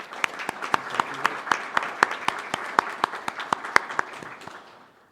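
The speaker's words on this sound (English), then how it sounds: "Ladies and gentlemen, a round of applause here for Sergeant Ivan Rowe" Applause breaks out from a Rotary Club audience at a meeting, distinct sharp claps standing out from a steady patter of hands, fairly close, then fading out near the end.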